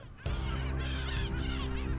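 Gulls call at a gull colony by Lake Manych-Gudilo, a loud, close, continuous chorus of harsh honking cries.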